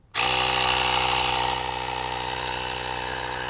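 VARO electric air pump inflator from Action starts up abruptly and runs with a steady high-pitched motor whine and buzz, loud and close, settling slightly quieter after a second and holding constant.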